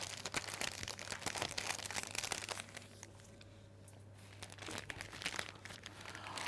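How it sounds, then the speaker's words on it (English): Cellophane crinkling and rustling close by as it is wrapped around a hand-tied pink rose bouquet, steady crisp crackles with a brief quieter pause midway, over a low background hum. "I'm just going to gently just tease the cellophane"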